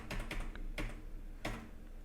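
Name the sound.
pressing Enter on a computer keyboard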